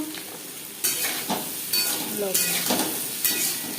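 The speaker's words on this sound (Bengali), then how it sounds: "লবণ হলুদ দিয়ে আলু হালকা করে ভেজে নেব।" Potatoes frying in a pan with turmeric and salt for Bengali aloo posto, a steady sizzle broken by several loud bursts of stirring and scraping close by.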